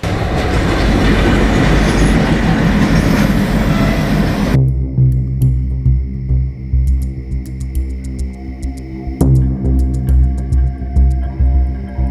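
A train at a railway station platform: a loud, dense rumble gives way to steady heavy throbbing and clacking of rail cars, with scattered metallic clicks, close and continuous.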